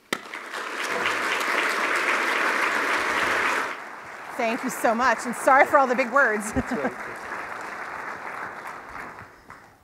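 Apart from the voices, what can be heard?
audience applause welcoming keynote speaker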